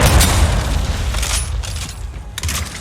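A frag grenade goes off in the Titanfall 2 campaign: a loud, close boom followed by several sharp bursts of debris and blast noise that fade over a few seconds, with no voices.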